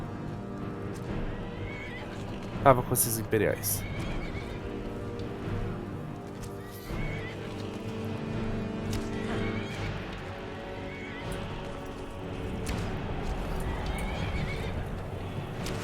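A horse in Skyrim gives a loud, close whinny a few seconds in, then its hooves clip-clop steadily beneath constant game ambience and background fighting on the road, while someone talks briefly.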